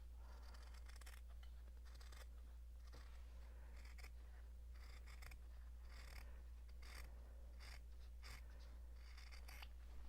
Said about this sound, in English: Then I'm gonna trim a little bit of this